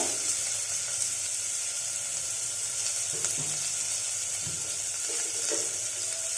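Finely chopped onion and dried red chillies frying in hot oil, a continuous dense sizzle with a few soft stirring clinks, close and steady, no voices.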